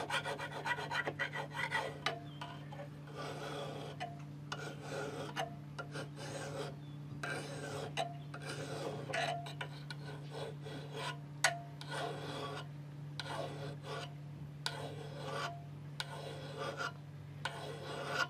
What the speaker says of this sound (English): do a little bit more sharpening here.